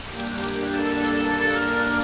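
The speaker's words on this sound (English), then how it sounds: "It rained and rained like it would never stop." Steady rain hisses without pause while sustained musical tones hum softly underneath.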